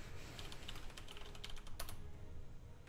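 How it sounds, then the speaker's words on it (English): Quiet typing on a computer keyboard, a quick irregular run of soft key clicks at close range with no talk. "Typing is hard."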